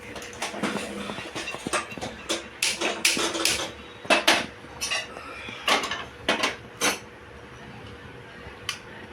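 Dried mango seed kernels roasting in about two spoons of ghee in a pan give off sharp, irregular crackles and clinks, clustered in quick bursts with quiet gaps between.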